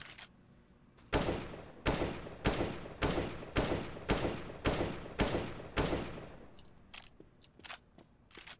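Evenly spaced single shots from a gun in the video game CS:GO ring out about nine times in a steady rhythm, each loud and close with a short decaying tail, followed by a few fainter clicks.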